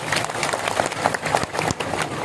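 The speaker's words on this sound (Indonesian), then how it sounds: "Tepuk tangan dulu untuk Pak Haji" A crowd at a night Islamic religious gathering applauds for a respected Haji, dense continuous clapping throughout with a faint murmur of voices beneath.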